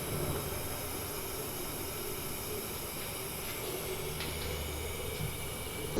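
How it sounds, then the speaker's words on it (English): A steady, broad hiss from a vacuum leak around the fuel rails of a Mazda Miata MX-5 runs throughout under a low engine rumble, constant and unbroken, with no talking. "you can hear that there's a little bit of a hissing sound, so which is a vacuum leak basically"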